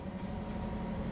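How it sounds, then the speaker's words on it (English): A Canadian National GP9RM diesel locomotive in Train Sim World holds a steady, low, droning engine rumble with a constant mid hum, heard briefly and evenly from inside the cab. "You're currently aboard a GP9RM diesel locomotive."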